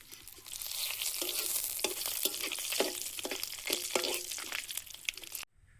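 Panch phoron spices and bay leaf frying in hot oil for dal, a dense crackling sizzle with rhythmic stirring scrapes that stops abruptly near the end.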